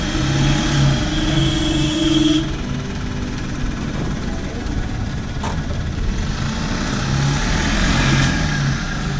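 Car engine revving while turning on a mountain road near Shimla, a steady rumbling drone with rising and falling tones as the vehicle climbs and turns.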